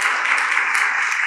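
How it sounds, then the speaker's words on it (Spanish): Steady applause from an audience, a dense wash of clapping that fills the whole short moment without pause. "démosle un aplauso a don Héctor"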